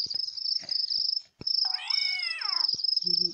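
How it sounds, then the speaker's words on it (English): A cat in a video game lets out a drawn-out, wavering meow in the middle, set against a constant high cricket-like chirping and a few soft thumps, with no talking. "it's a kitty cat"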